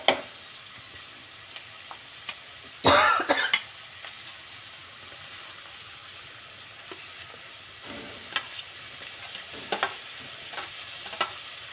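Slit green chillies hit hot oil in a pan for butter egg masala, giving a sharp, loud sizzling burst that quickly settles into a quiet, steady frying hiss with occasional small pops.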